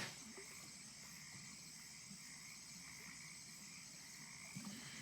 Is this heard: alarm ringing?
no